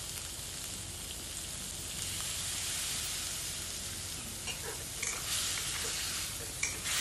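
Pork stir-frying in a pan after water goes in, making a steady rain-like hiss throughout, with scattered scraping and clinks of stirring toward the end, no talk.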